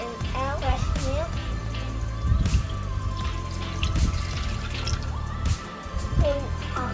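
180 ml of fresh milk is poured into the pan of a Russell Taylors BM-10 bread maker, giving soft dripping and trickling that sits under a person talking throughout.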